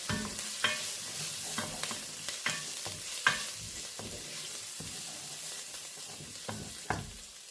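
Spoon stirring cayenne pepper into a pot of ham hock baked beans, a series of scraping strokes and soft knocks against the pot over a low sizzle, close and fairly quiet, with no talking.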